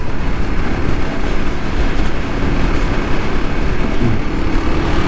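Kawasaki KLX 300SM motorcycle being ridden, a steady, loud rumble of engine and road noise that holds continuously throughout with no talking.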